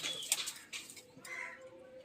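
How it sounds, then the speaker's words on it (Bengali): Pigeons kept at a house coo and flutter nearby, with soft cooing calls, a few sharp chirps and brief wing flaps over quiet background. "এই হচ্ছে পায়রা,"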